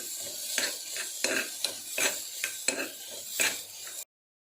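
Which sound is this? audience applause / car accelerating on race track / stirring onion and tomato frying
stirring onion and tomato frying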